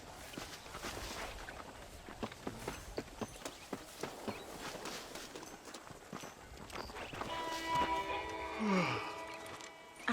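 Horse hooves clip-clopping at a walk in the Red Dead Redemption video game, a steady rhythm of mid-distance steps with a low ambient bed, joined late by a brief musical tone.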